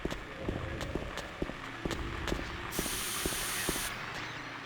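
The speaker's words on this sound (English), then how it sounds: "Yeah, the hyper spray is so awesome." Bright hissing blast of the green hyper spray in Silent Hill 2, lasting just over a second, over a steady rhythm of quick footsteps in the game.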